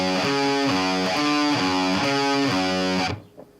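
A heavily distorted electric guitar chugs through a riff in quick, even repeated notes, loud and close, then cuts off abruptly near the end.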